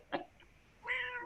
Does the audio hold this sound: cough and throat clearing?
no